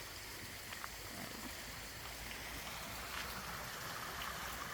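A small waterfall in a stream gives off a steady, even hiss of falling water, faint and constant from start to end with no voices.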